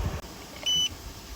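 An air purifier gives one short, clear electronic beep as its M mode button is pressed, sounding close over a quiet room hum, with a soft button click just before it.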